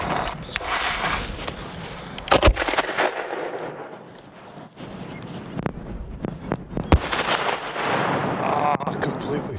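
Six-inch fireworks shells bursting outdoors during a blizzard, heard as several loud, sharp booms spaced a few seconds apart over steady wind and snow noise.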